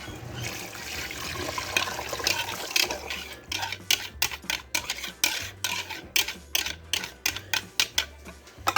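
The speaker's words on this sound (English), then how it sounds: "So now I'm going to stir in my beef gravy" A spoon stirs beef gravy into a pot of stew, with wet sloshing at first and then a run of soft, regular scraping and clacking strokes close by.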